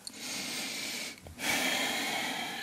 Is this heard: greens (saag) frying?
no